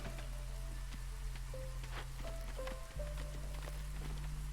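Light drizzle patters softly and steadily in the video game Against the Storm, a thin constant rain hiss with scattered tiny drops, layered over a low droning game soundtrack and occasional faint clicks.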